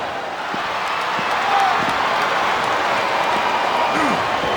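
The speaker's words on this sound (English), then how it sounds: "I think this crowd's giving these superstars a piece of their minds, King." A video-game wrestling arena crowd from SmackDown vs Raw 2007 roars in a dense, continuous wash of cheering, loud and steady, with commentators talking over it.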